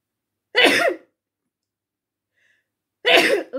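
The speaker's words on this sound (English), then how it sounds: "excuse me, sneezing." Two sharp, close sneezes about two and a half seconds apart, each a short explosive burst followed by silence, from a person at home.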